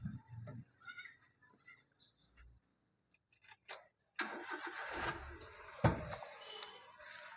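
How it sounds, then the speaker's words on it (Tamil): A few quiet clicks and shuffles, then the small engine of a 2006 Maruti Suzuki Alto LXi cranks and catches, settling into a steady idle close by. "வண்டி ஸ்டார்ட் பண்ணியாச்சு"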